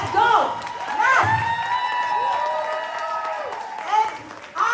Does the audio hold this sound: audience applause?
yes